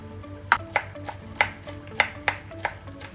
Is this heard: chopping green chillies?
yes